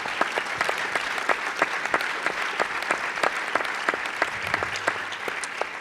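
An audience at a social and solidarity economy forum plenary applauds the organisers, a steady run of many hands clapping with sharp individual claps standing out, fairly close and continuous, without talk over it.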